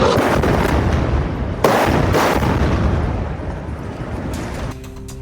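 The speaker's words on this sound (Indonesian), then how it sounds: "Rudal menghantam bangunan dan memicu ledakan besar" An Israeli air strike sends missiles into buildings in the Sabra neighbourhood, setting off a continuous heavy roar of large explosions with sharp booming bursts and rumbling debris, loud and close, fading slightly toward the end.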